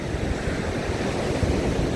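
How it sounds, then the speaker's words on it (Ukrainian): Sea waves wash steadily on the Odesa shore, a dense continuous roar of surf mixed with wind buffeting the microphone, loud and even with no voices. "Море манять."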